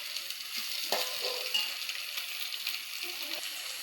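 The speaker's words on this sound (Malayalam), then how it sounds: "എണ്ണ മേലേക്ക് ഇങ്ങനെ ആയി വരും. നന്നായി വഴറ്റി കൊടുത്ത്" Masala sizzles softly in oil as it is sautéed for a Kerala chickpea curry, a steady low frying hiss with a few faint stirring clicks, no voices.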